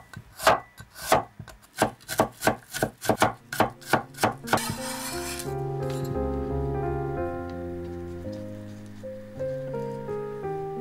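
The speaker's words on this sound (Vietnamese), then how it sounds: "Bạn nào ăn cay thì mình băm thêm một ít ớt cho có thêm màu sắc" A knife chops chili on a board with a quick series of about a dozen sharp, close taps, then stops and a sustained tonal hum with shifting pitches takes over.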